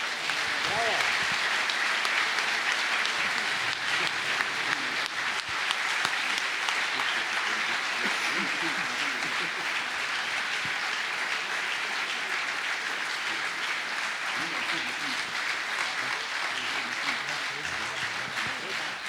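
Concert audience applause after a male choir performance, a sustained, even wash of many hands clapping that stays steady and full for the whole stretch, with faint voices beneath.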